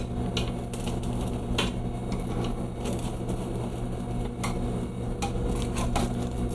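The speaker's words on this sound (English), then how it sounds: "I just like to cut it into little squares" A knife or spatula cuts a baked dish into small squares in a pan, producing repeated sharp metallic clinks and scrapes at irregular intervals over a steady kitchen hum, close and fairly loud.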